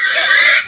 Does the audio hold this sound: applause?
no